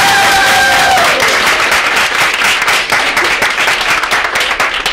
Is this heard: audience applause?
yes